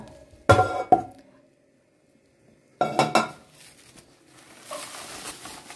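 A frying pan and a kadai being picked up and set down in a home kitchen, giving two loud bursts of metallic clanks and clinks separated by a quiet pause, then faint rattling at the end.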